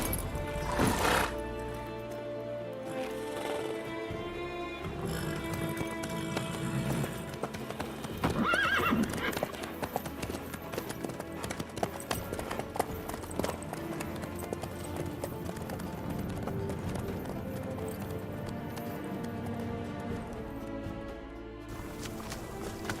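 Horse hooves clip-clop steadily through The Witcher 3 with a neigh or whinny breaking in, all layered under game music and spoken dialogue for the whole stretch.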